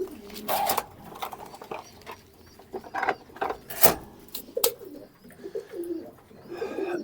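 Domestic pigeons in a loft, including brown-barred squabs, give soft intermittent coos and calls against low rustling, with someone speaking at moments in between.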